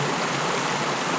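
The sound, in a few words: creek running over rocks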